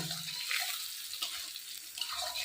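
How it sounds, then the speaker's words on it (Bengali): Shol fish curry bubbles at a steady boil in a pot during village home cooking, a soft, continuous watery burble heard fairly quietly and close, with no voices. "ওইদিকে তো ওটা কি মাছের ঝোল ওটা তো ফুটছে"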